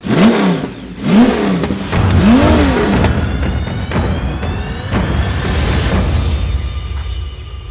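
A Seat Alhambra car engine, upgraded, revs hard several times in rising and falling sweeps, then settles into a loud steady running roar, close and without speech.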